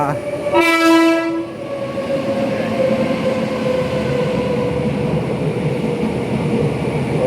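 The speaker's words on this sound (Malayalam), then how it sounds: "നമ്മുടെ ട്രെയിൻ അതാ പോകുന്ന" A train passes near the NH66 roadworks at Vadakara, a loud horn blast near the start giving way to a steady, close rumble of rolling wagons that carries on to the end.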